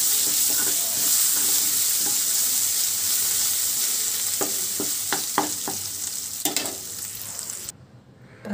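Ridge gourd chutney is stirred into a hot tempering with asafoetida in a pan, giving a steady close sizzle with scraping spoon clicks near the end before it cuts off; no talking.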